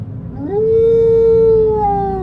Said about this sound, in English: She lets out another howl.